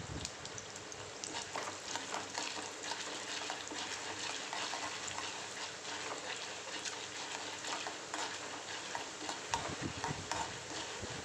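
Urad dal and chana dal sauté in oil with spluttering mustard seeds for curd rice, a faint, continuous sizzle with steady stirring and light scraping the whole way through.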